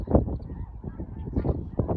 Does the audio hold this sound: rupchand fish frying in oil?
no